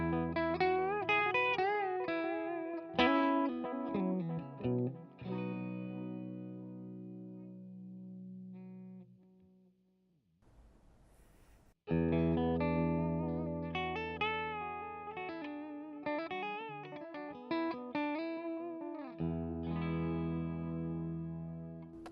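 Electric guitar played through a Wampler Ethereal delay pedal with the mix turned down, sustained chords and melodic lines ringing with faint repeats, a brief near-silent pause midway before playing resumes; no talking.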